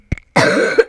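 A person with a cold gives a short, close cough in two quick bursts, then a sustained wheezy, throaty rasp follows while gaming a battle royale.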